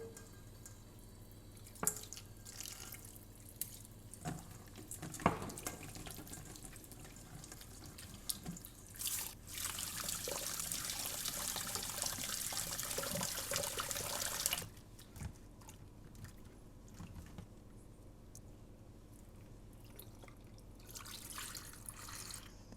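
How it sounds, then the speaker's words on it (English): Tap water running over oxtail meat in a kitchen sink: scattered splashes and handling noises, then a steady hiss of flowing water for several seconds that cuts off, followed by quieter drips and rinsing sounds. "the first thing I'm going to do is to wash and clean my meat"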